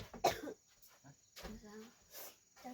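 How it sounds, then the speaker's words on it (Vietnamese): A woman coughs up blood with a couple of harsh coughs amid quiet background, and speech-like sounds follow nearby. "Ui, ho ra máu rồi."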